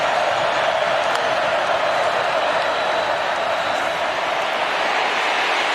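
A football stadium crowd at the 2017 Oklahoma Sooners vs. Texas Longhorns Red River Rivalry game reacts to a penalty flag with a loud, sustained roar that holds steady and unbroken throughout.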